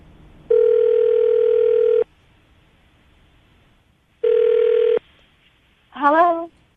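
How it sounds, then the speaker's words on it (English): A landline telephone gives two sustained steady dial-tone bursts separated by a silent gap, followed by a short warbling electronic tone as the number goes through, loud and close with no voices. "I'm going to dial the number right now and see if we can get her on the phone"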